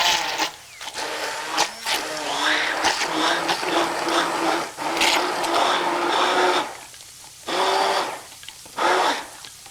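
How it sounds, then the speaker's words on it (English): A hand blender whirs through chunky salsa in a cottage kitchen, running loud and steady in long bursts broken by brief pauses. "So I'm going to take this over our hand blender."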